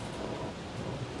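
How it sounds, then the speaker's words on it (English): Rain and thunder at sea aboard a sailing yacht on the Indian Ocean, heard as a steady, dense wash of rain with a low rumbling undertone throughout, fairly quiet and continuous with no voices. "And the rain is there as well."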